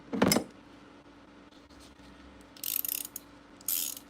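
Ratcheting end of a wrench clicking in short bursts, a sharp close burst at the start, then two brisk clicking runs later, with quiet pauses between.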